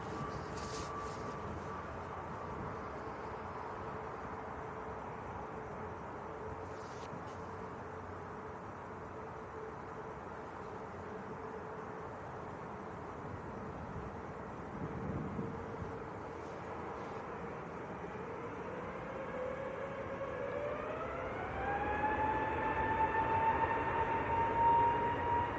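EasyJet airliner bound for Amsterdam on its takeoff roll at Manchester Airport, a steady distant engine roar that swells and climbs in pitch toward the end as thrust builds.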